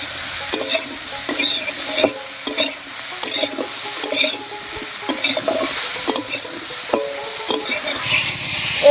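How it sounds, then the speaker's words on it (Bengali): Sliced ridge gourd, seasoned with salt and turmeric, sizzles in oil in a pan while a spatula scrapes and stirs it in quick, repeated strokes, close and clear. "এই অবস্থায় ঝিঙেটাকে একটু ভাজা ভাজা করে নেব"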